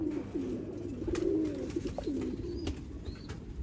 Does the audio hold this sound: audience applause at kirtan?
no